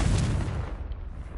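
A Confringo fire spell blast in Hogwarts Legacy, one loud close booming burst that hits at once and then fades into a short rumbling tail.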